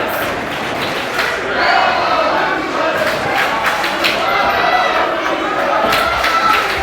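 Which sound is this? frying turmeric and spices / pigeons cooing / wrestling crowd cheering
wrestling crowd cheering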